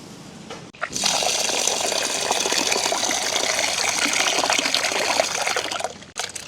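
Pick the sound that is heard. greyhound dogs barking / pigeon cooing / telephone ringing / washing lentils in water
washing lentils in water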